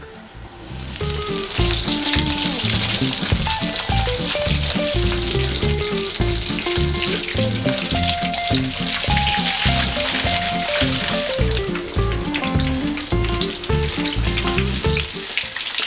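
Breaded pork cracklings fry in hot oil flavoured with thyme and two garlic cloves, a loud, steady, dense sizzle with crackling pops running throughout, close up and with no talking.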